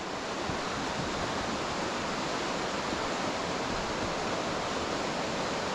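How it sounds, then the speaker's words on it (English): The River Wansbeck churning white and flowing fast, a loud, steady broadband rush of water close by, continuous and unbroken with no voices. "So you hear the water quite loud now, all those churns of the white where it's getting churned over, flowing quite fast"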